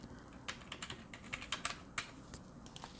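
Typing on a computer keyboard, including a press of the Tab key, as a quick run of light, close clicks at an uneven rhythm.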